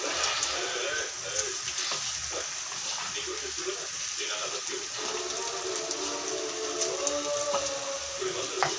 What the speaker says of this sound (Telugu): ఆయిల్ మరిగింది. ఇందులో ఇప్పుడు మనం బంగాళదుంప వేసుకోవాలి.